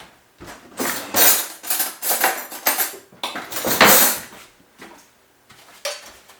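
A metal grater is knocked repeatedly against a hard kitchen surface to shake loose orange zest, giving a run of sharp, clattering metallic taps in irregular bursts, close and moderately loud, with no talk.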